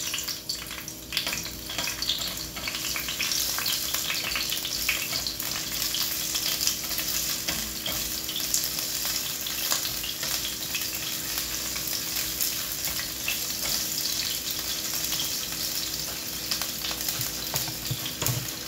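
Onions frying in a pan for a budget Filipino home-cooked meal, a steady close hiss and crackle of sizzling oil with occasional stirring scrapes, continuous throughout with no talking.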